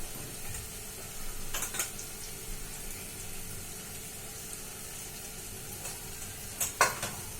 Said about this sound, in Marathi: आता आपण छान परतूया.